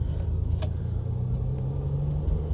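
A 1967 Ferrari 330 GTC engine runs as the car drives along, giving a steady, loud, deep rumble with a low hum throughout and no talking.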